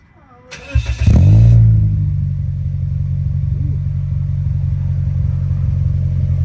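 A Scion xB fitted with a STRUP exhaust cold-starts: a short starter crank, a sharp rev flare, then a loud steady low-pitched idle rumble that continues to the end.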